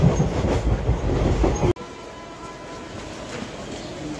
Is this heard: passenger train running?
yes